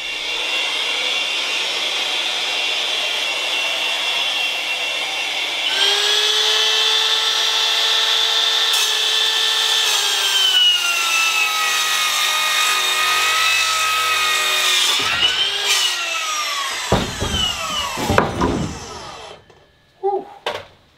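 A power saw cuts through solid hardwood outdoors in a rainforest, a loud, sustained whining buzz that shifts pitch as the blade bites, then stops near the end with a few knocks.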